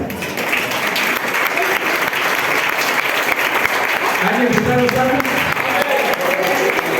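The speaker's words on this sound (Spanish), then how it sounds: "Un aplauso al Señor." A church congregation claps in a steady, continuous burst of applause, with a voice speaking over it near the end.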